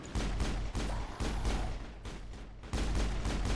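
Rapid bursts of weapon fire in the Mass Effect 1 video game crackle continuously at close range, with brief gaps between volleys and a final heavy burst, loud and without speech.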